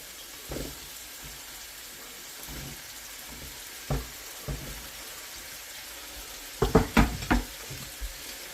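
Diced swede dropped into a hot pan for beef stew, giving quiet sizzling with a few soft scattered clatters and a brief cluster of knocks as pieces land and are stirred, no talking.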